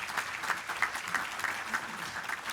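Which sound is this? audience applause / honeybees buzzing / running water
audience applause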